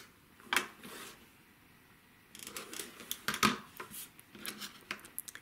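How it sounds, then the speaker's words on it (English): Scissors snip off fabric nubs from a quilt block, a few quiet, close crisp cuts and light handling rustles in a near-silent room. "Cut off this nub"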